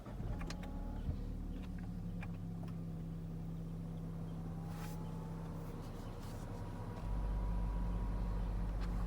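A Range Rover Autobiography SDV6 is started with its push button. Quiet cabin hum and a few soft clicks come first, then the engine catches and settles into a low, steady idle heard from inside the car.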